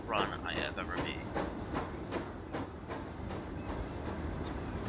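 An express train in the Transport Fever 2 game rolls along with a steady, evenly spaced clickety-clack of wheels over rail joints. A brief voice-like sound comes near the start.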